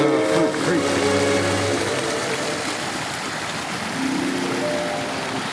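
Hunt Creek running full after four inches of overnight rain, a steady broadband rush of water that holds constant throughout, with a faint tonal hum beneath it and no voices.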